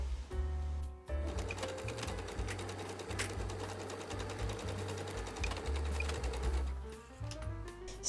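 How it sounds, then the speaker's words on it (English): A sewing machine sews a straight stitch on a dress, its needle stitching in a fast, even mechanical rhythm, with a brief pause near the start and slowing toward the end. "on my sewing machine."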